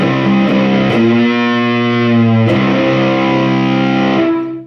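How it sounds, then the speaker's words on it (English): Electric guitar run through a JHS Bender fuzz pedal rings out a few loud, heavily distorted sustained chords that decay and fade at the close. "Kind of a cool little fuzz combo."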